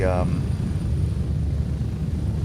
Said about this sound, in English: Expedite helicopter takeoff is L